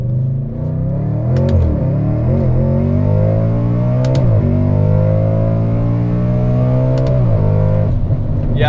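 A supercharged Audi RS5 V8 accelerates hard, its loud engine drone climbing steadily in pitch through three gear changes, each marked by a short dip and a sharp crack before it pulls again.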